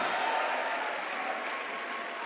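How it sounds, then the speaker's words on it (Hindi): Brief burst of audience applause at a student fest, a dense, steady wash of many hands clapping for a couple of seconds. "एक बार इनके टाइम पर आने के लिए तालियां बजानी चाहिए।"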